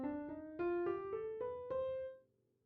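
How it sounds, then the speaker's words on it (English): A single instrument plays a rising seven-note scale in the melodic minor, evenly paced notes stepping upward and ringing out on the last one. "A melodic minor scale sounds like this."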